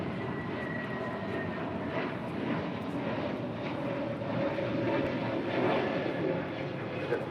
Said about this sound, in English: I bid you a blue A321neo departing to JFK.